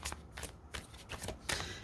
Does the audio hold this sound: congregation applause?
no